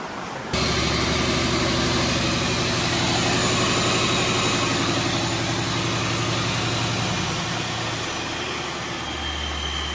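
A supercharged Ford Mustang engine with a loud blower fires up abruptly and settles into a heavy, rumbling idle, close-up and steady for several seconds.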